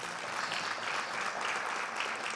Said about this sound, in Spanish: démosle un aplauso a esa asociación